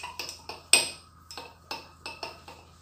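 Spoon clinking repeatedly against a cup while stirring chia milk tea, a steady series of about eight close, bright taps at roughly even intervals, with one louder knock early on and no talking.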